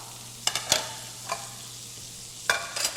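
Peppercorn-crusted ahi tuna sears in a 10-inch gourmet skillet with a quiet background hiss, broken by a few sharp clinks and bursts of sizzle near the start and end.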